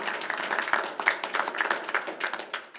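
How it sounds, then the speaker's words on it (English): Audience clapping at a council public hearing, a brief scattered round of applause from a modest crowd in a meeting room, with no talking. "please don't clap and just let people talk"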